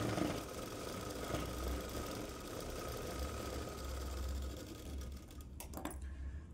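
A sewing machine runs steadily while finishing a stitch on an umbrella dress, a dense, even mechanical whir and patter that carries on close by before easing off near the end.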